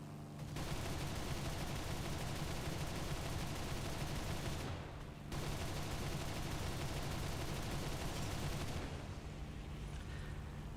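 Rapid, continuous bursts of MK103 and MK108 cannon fire with mine shells from a He 219 A-7 in War Thunder, loud and dense, broken by one short pause and easing near the end.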